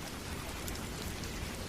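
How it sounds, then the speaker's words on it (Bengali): Heavy pouring rain in a cartoon scene, a dense, continuous roar of drops drumming on surfaces that stays loud and even throughout, with no voices. "ঝমঝম করে মুষলধারে বৃষ্টি।"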